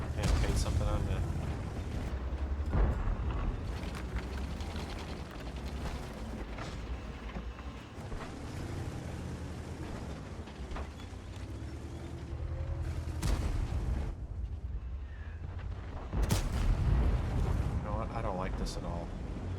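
The Type 63 tank fires its cannon in a tank video game, with heavy booms and mechanical rumble under ongoing talk.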